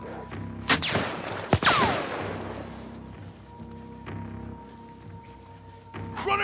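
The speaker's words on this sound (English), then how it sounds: "who's shooting me over here?" Scattered gunshots in The Last of Us Part 2, a few sharp loud cracks early and fainter shots later, over a low background of game ambience.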